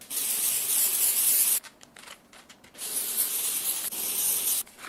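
Dry shampoo sprayed onto a synthetic wig in two long hissing bursts, close and loud, separated by a short pause with faint handling sounds.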